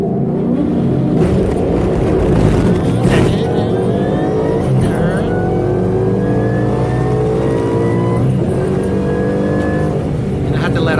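Drag race car launching down the track, a loud, sustained roar of a high-revving engine climbing steadily in pitch as it accelerates, with people talking over the noise.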